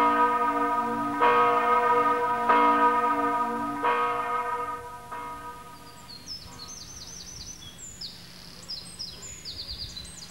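The large church bell of Goldau ringing in the afternoon: several slow, resonant strikes with long humming decay, followed by quieter fading tones while birds chirp and twitter nearby.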